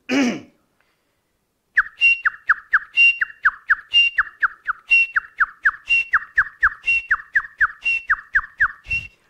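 A voice whistles an imitation of the grey francolin's call, a loud, close, rhythmic series of repeated phrases, each made of several sharp notes topped by a higher note, starting after a short sound and a pause.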